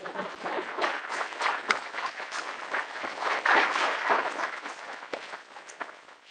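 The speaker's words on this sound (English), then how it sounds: "One more round of applause to all of our graduates" An audience at a drug court graduation ceremony gives sustained applause, a dense crackle of many hands clapping at moderate distance, steady with slight swells throughout.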